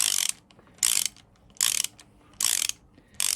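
A hand ratchet snugging down the sump bolts on a CB Performance 2017cc engine, clicking in five quick, loud bursts of rapid pawl clatter with short quiet gaps between strokes.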